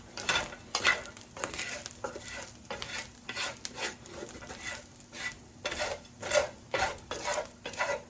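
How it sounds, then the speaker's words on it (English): Repeated scraping and stirring of ground beef caramelizing in a hot pan with a soft sizzle underneath, strokes coming in an uneven rhythm, close up, no talking. "I don't want to hear it sizzling anymore."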